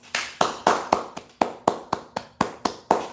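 A single pair of hands claps steadily and close by, about a dozen crisp claps in an even rhythm with no voices over them.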